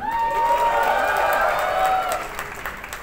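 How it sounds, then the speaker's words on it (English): Event audience at the GAFX 2024 gathering in Bengaluru bursting into loud cheering and applause with whoops, holding strong for about two seconds before fading. "can we all have a cheer for GAFX"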